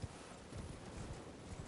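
Donkey hooves clip-clop in Elden Ring, a steady plodding rhythm of muffled low thumps that run on without pause under a soft ambient bed, with no talk over them.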